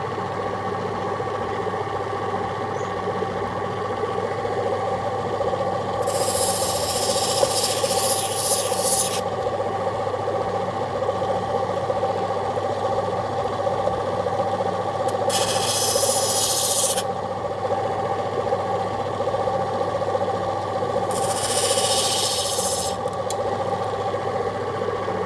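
A new opal cutting machine runs with a constant motor hum while a stone is ground against it, with three loud, bright bursts of grinding rising over the steady drone.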